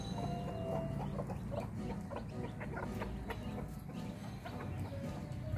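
Constant clucking from a flock of free-range black Silkie chickens, many birds calling at once in a dense, continuous farmyard chatter.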